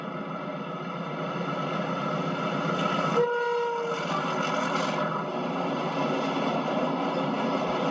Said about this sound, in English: A Newcastle to Liverpool relief passes Wormald Green, powered unusually by a Type 3 diesel.